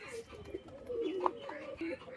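Male pigeons coo softly in a loft, a few low throaty calls rising and falling close by, with faint background noise between them.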